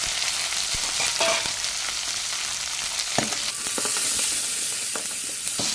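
Shallots and garlic hit hot oil with mustard seeds in a pan for fish head curry, giving a loud, close sizzle with crackling pops and scraping stirs throughout.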